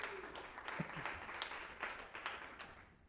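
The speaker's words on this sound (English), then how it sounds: "Jill, round of applause for Jill." Audience applause at a sales training session, a modest round of clapping from a small crowd, fairly soft and steady for a few seconds.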